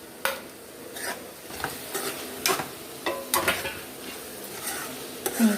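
Fried fish being added and stirred into a ridge gourd curry in a pan: repeated spoon knocks and scrapes against the metal at irregular intervals over a low simmering sizzle, close with no talking.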